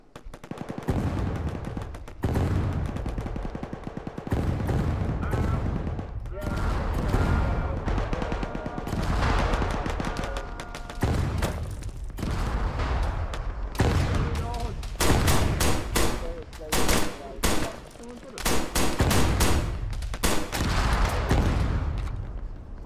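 Sustained firefight in Arma during a CSAT peacekeeping operation, with repeated rifle and machine-gun bursts near and far over more than twenty seconds, and radio-style voices talking in between.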